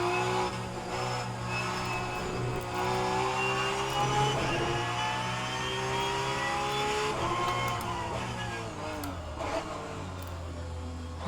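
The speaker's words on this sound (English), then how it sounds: "I don't know why I'm blipping on downshift" A Porsche GT3 Cup 992 race car at Spa-Francorchamps with its engine revving high and steady, the pitch sweeping up and down through gear changes and throttle blips.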